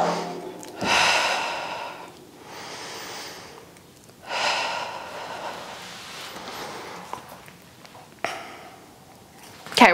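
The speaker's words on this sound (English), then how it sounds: "We're breathing in through the nose, out through the mouth." Deep breaths during an intermediate-to-advanced Pilates Reformer workout, drawn in through the nose and released through the mouth: three or four long, airy exhales spaced a few seconds apart, close and fairly loud with no talking.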